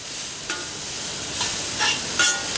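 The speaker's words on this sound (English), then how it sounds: "Keep on moving the onions around, saute it." Onions sautéing in a pan for caramelizing, a steady close sizzle and hiss with a few soft scraping stirs as they are moved around, no talking.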